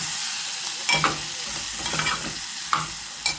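Prawn masala tempering being stirred in a pan: a few distinct scraping strokes of a spoon at uneven intervals over a soft, steady sizzle, close and fairly quiet.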